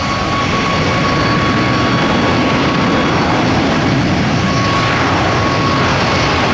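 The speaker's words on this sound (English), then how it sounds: "724 MCI, that's Kansas City. That's a Boeing Max." A Boeing Max airliner roars at Tampa airport, its jet engines producing a loud, continuous broadband rumble heard from a parking garage, steady throughout with a faint tonal whine.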